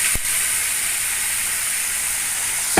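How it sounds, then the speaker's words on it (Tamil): Mustard seeds splutter in hot oil during tempering for a greens dish, giving a continuous close sizzling hiss with a couple of sharp pops. "பாருங்கள், நல்லா கடுகு பொரியுது."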